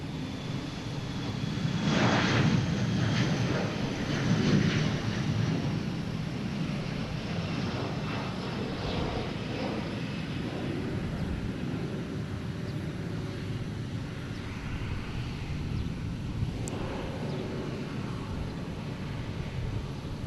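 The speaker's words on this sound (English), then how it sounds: "I'm talking about the Lufthansa Star Alliance A340." A Lufthansa Star Alliance Airbus A340 jet airliner at Boston Logan airport, a loud sustained engine roar building then holding as a broad rumble across the whole stretch, with no voices.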